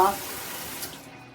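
Water from a handheld shower head runs briefly and then cuts off, leaving a fading hiss as the flow stops within about a second.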